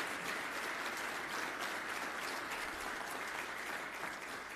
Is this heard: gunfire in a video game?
no